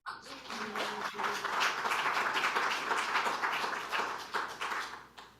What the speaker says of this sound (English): please welcome our newest members, again with applause